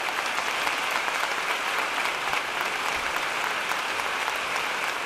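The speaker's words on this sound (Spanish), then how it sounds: "Un aplauso muy grande para ellos" Concert audience at the Auditorio de Tenerife during the Fimucité film music festival applauds loudly and continuously, a dense, even wash of many hands with no break.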